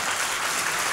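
A church congregation applauds during a sermon, a dense, even wash of many hands clapping that fills the whole moment with no pause.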